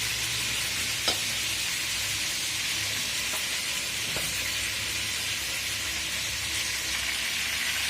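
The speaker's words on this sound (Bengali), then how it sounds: "রোস্টটা ভাজা হয়ে গেছে, আমি 4 মিনিট ভাজলাম" Chicken roast frying in a pan gives a steady, even sizzle throughout, with a few faint clicks of utensils near the start and midway.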